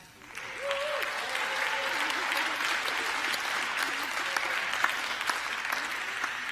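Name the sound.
conference audience applause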